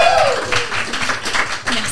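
A studio audience applauds briefly in a stretch of close, uneven clapping while voices keep talking over it.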